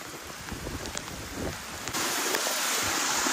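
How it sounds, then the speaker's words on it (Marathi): Heavy rain pours outdoors in gusty wind: a dense, steady roaring hiss that swells louder partway through and then holds, with no voices over it. "पाऊस जोरात आहे."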